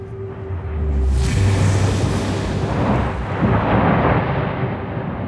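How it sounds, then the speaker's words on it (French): A deep, rumbling underwater volcanic explosion near Naples swells up and rolls on, a heavy low roar that lingers for several seconds. "Ça, c'est une explosion qui vient de se produire."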